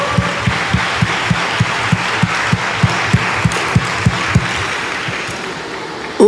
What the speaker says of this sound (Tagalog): Lahat tayo sama-samang pumalakpak sa Diyos.